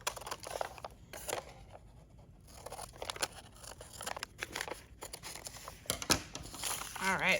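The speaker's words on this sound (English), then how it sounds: "I'm just going to use my scissors to snip off these edges." Scissors snip off the edges of paper in a book construction project: a run of crisp, close cuts and paper rustles with short pauses between bursts.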